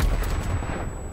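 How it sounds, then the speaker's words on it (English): Semtex grenade blast in Call of Duty: Black Ops Cold War, a heavy, booming explosion with a deep low rumble that fades over about a second. "Semtex grenade."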